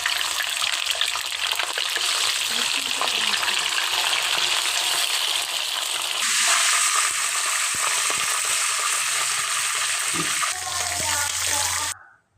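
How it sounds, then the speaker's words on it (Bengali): Chicken roast pieces fry in a pan on a gas stove for a shahi chicken roast, a continuous close sizzle that shifts in intensity midway and cuts off abruptly at the end. "আমি রোস্টগুলো ভালোভাবে ভেজে নেব"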